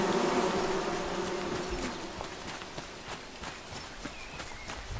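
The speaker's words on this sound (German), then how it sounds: "Hier sind Bienen, Vorsicht." Bees buzzing in the video game Among Trees, a faint insect hum with soft ticking footsteps and light clip-clop sounds, no voices.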